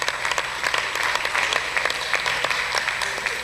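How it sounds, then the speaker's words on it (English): Audience at a school competition between Kings & Queens Academy and Treasure Trove Schools breaks into applause, a crowd clapping with sharp individual claps standing out, moderately loud and steady throughout. "a round of applause"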